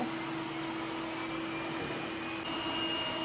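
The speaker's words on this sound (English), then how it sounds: "the Yeedi Mopping Pro goes a little bit faster off the charging base than the Vac2 Pro" Yeedi robot vacuums, a Mopping Pro and a Vac2 Pro, pull off their charging bases with a steady, loud motor whine and airy hum that holds throughout, no talking.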